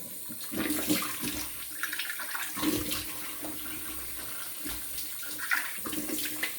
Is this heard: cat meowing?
no